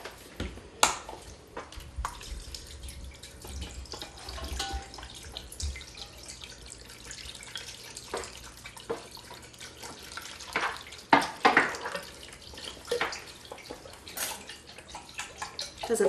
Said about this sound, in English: We are going to add 2 cups of broth, which so nicely comes in a pre-measured container.